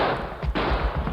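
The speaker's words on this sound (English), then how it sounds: "I saw the flashes of those guns." Gunshots in an old Western radio drama, a dense noisy burst with one sharp crack near the middle, loud and close with no voices.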